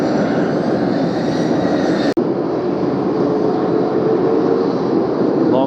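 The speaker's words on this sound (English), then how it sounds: "Private Airbus." A private Airbus jet lands in gusty crosswind at Las Vegas, its engines giving a steady, loud, broadband roar throughout, broken by a single sharp click partway through, with no voices.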